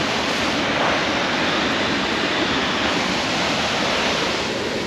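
Roadside waterfall along the Rogue River, a steady full-spectrum rush of falling water, loud and close, continuous and unbroken throughout with no voices.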